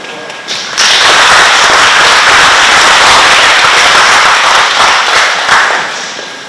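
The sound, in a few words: audience applause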